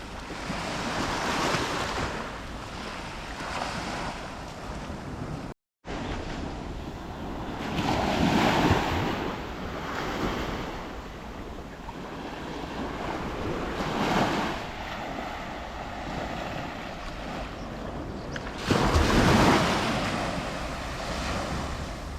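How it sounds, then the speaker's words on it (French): Morning ocean waves roll in and wash up on a beach at Porto Cristo, Majorca, surging in slow, steady cycles, with breezy wind noise over the microphone. "bruit des vagues le matin, c'est parfait."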